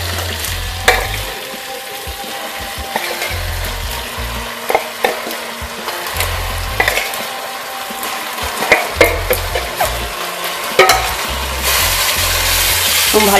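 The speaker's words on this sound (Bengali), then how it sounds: "ভালোভাবে কষিয়ে নিচ্ছি।" Chicken chaap masala gravy being sautéed in a pan, with steady loud frying and sizzling and repeated stirring and scraping strokes throughout, no talking.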